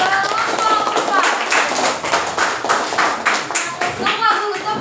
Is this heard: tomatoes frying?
no